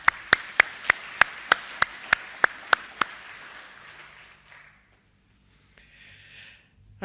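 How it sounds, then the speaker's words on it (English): A small audience claps for award winners at a conference closing, about ten sharp, evenly spaced claps ringing out over the first three seconds, then fading into quiet room murmur. "a round of applause for those winners again"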